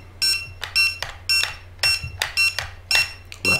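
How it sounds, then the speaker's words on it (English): A Hubsan Zino drone controller (HT016B) powering on in jumper firmware-update mode emits a rapid series of bright electronic beeps, several short bursts in uneven rhythm, loud and close with quiet gaps between. "you power on till you hear a bunch of beeps"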